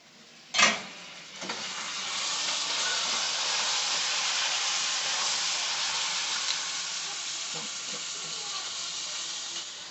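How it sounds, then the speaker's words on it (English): Ground beef sizzles loudly in a frying pan while being stirred for spaghetti, a sharp scrape near the start then a steady close hiss with occasional faint clinks. "Let me stir my beef."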